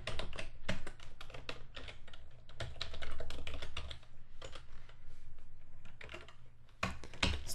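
Rapid bursts of typing on a computer keyboard as a URL is entered, irregular clusters of clicky keystrokes with brief pauses between words, close and fairly quiet over a low steady hum.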